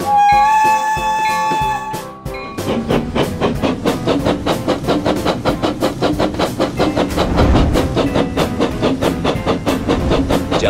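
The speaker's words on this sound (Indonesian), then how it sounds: "Ayo kita jalankan kereta kita. Kereta berangkat dari stasiun Tutut." A green toy brick train with a Pacific 4-6-2 locomotive rolls along plastic rails, giving a steady loud rapid clickety-clack rhythm that runs throughout, after a brief opening jingle of bright chime tones.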